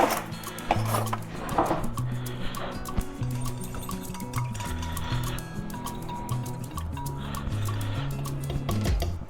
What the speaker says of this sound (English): Mix that together with a fork